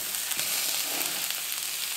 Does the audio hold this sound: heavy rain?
no